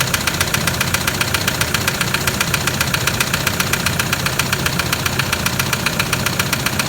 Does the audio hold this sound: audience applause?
no